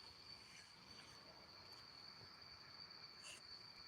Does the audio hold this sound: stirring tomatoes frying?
no